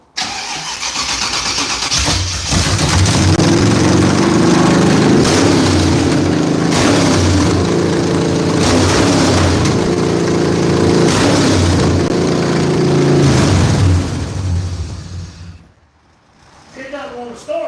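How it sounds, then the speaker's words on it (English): A car engine cranks and struggles to start, catches, then revs unevenly at a high, loud pitch for several seconds before dropping off abruptly, with a voice speaking near the end. "It doesn't want to start because it's trying to idle at 3."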